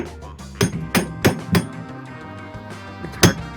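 A hammer knocks out the drive seal of a Cabrio washer in a series of sharp, close metallic strikes at irregular intervals, about six hits with a ringing clank, no speech.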